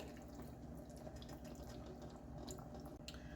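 Water pours and drips into a pan holding seasoned chicken drumsticks for smothered chicken, a soft, faint liquid splashing and trickling that runs steadily for a few seconds with no talk.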